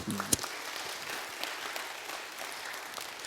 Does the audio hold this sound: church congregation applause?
yes